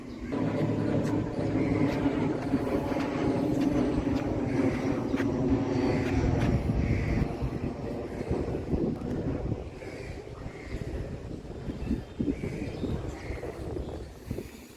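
Ambience at Bagbazar station on Kolkata's circular railway, with a steady loud rumble of a train and blustery wind buffeting the microphone, the roar easing slightly partway through while clatter and scattered knocks continue.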